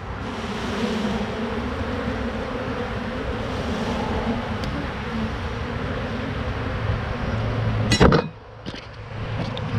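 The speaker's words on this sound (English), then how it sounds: "Tons of bees are gonna come out of here." Honey bees from an opened hive box buzz as a dense, steady drone throughout, with a sharp knock or clink near the end.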